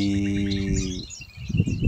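Birds in a six-month-old home aviary planted like a small forest, with a few close, quick chirps and tweets over a brief steady tone, then fainter scattered calls and rustling.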